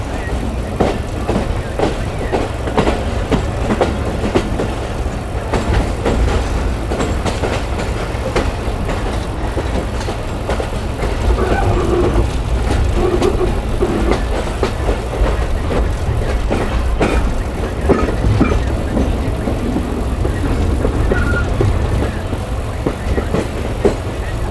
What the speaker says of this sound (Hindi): अब तक की टॉप स्पीड पे आ चुकी है ट्रेन